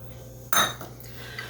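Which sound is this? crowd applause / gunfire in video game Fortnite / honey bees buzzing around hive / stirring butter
stirring butter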